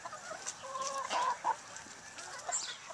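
Mixed-variety laying hens in a small farm flock clucking at moderate distance, several short overlapping clucks and soft calls over a quiet outdoor background.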